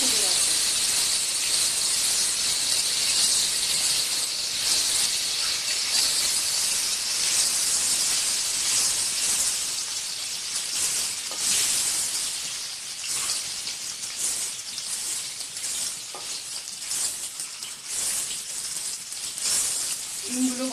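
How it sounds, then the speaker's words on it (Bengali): Eggs frying in hot oil in a pan for a Bengali egg curry, giving a steady loud sizzle and crackle with bright hissing spatter throughout, the bubbling easing slightly toward the end. "গরম তেলে ডিমগুলো ভেজে নেব।"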